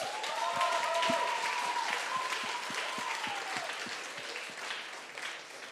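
Steady, dense audience applause for a band at a band contest final at Gloria, filling the whole stretch with continuous clapping, with faint voices or tones woven underneath.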